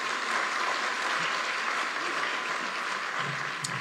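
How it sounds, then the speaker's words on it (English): Audience applause at Kenya Innovation Week 2023, a dense, steady clapping from a large crowd that fills the whole stretch evenly, with a faint voice near the end. "Another warm applause for the CEO, Kenya."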